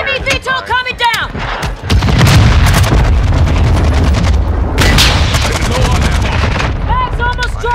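Video game combat with an enemy VTOL aircraft coming down amid dense gunfire and booming artillery-like blasts, loud and continuous, with a voice speaking briefly at the start.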